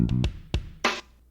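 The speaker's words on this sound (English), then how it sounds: "And then I use this bass loop from my loop collection." A brief bass loop plays a few quick low, punchy notes with a sliding thump, then a single bright noisy hit before it fades out. The sound is close and dry.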